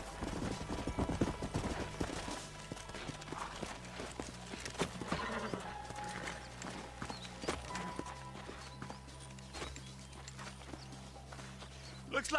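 In Red Dead Redemption, horses' hooves clip-clop at a slow walk, with an occasional whinny, over a busy background of music and ambient game sounds.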